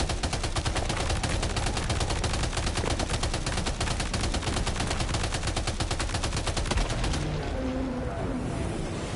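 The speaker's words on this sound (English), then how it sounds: "Whatever it is, I'm shooting it." Rapid automatic gunfire from the video game Death Stranding 2 rattles out in a steady, dense burst for about seven seconds. It then cuts off, leaving quieter ambient game sound.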